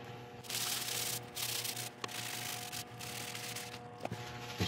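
Abrasive paste is rubbed into a piece of laburnum wood spinning on a lathe, a soft continuous scratchy friction under the low steady hum of the turning machine, with brief pauses and a few faint clicks.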